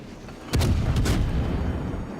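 Naval cruiser guns fire in World of Warships on the Tier 7 American cruiser New Orleans, with two heavy booming salvos in quick succession and a lingering low rumble, with no talk.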